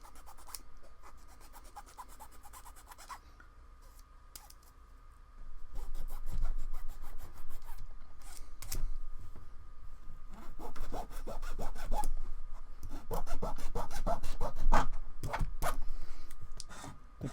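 Cork for miniature bases is filed by hand in rapid rasping strokes, quiet and scratchy at first, then louder and denser, close up and with no talking.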